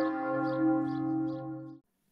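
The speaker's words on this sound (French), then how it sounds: "Voici quelques extraits ponctués par le son d'une cloche mise en vol." A single swinging church bell rings out one sustained, resonant metallic tone with rich overtones, loud and near, then cuts off abruptly at the end.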